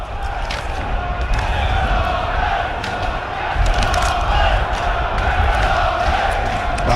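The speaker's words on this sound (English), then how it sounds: "Boy oh boy, they're making a noise now." A York City football crowd roars steadily at a National League match against Woking, a dense, loud wall of cheering and chanting that lifts slightly midway through.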